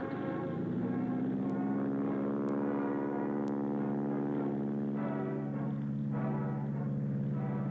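A droning 1940s-era propeller trainer plane engine hums steadily in flight with a throbbing, layered tone, and a few faint clicks sound early on.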